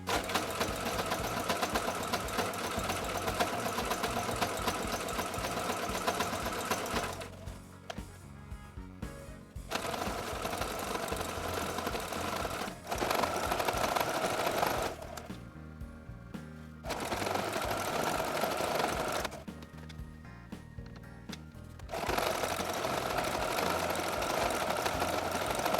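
A Kenmore 385.16231 sewing machine stitches apron fabric, its steady mechanical whir running loud and close in long bursts, broken by three short pauses where the needle stops.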